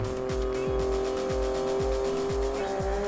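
Rally car in WRC Generations racing through Rally Sweden in 5th gear: a steady, loud engine drone with rhythmic low revving pulses and gear-like surges throughout.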